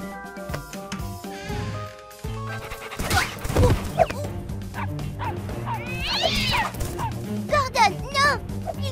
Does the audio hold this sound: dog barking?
yes